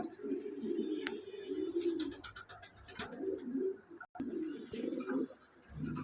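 Grey Ballas Lahori pigeons, a large-bodied running pair, coo in low repeated murmurs, close and fairly loud, with a few brighter higher chirps and rustles over them.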